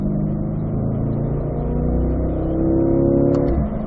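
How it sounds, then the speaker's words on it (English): Corvette engine pulling hard in fourth gear on a driving-school track, a steady loud in-car drone rising gradually in pitch, heard alone with no talk. "Accelerating up 4th gear."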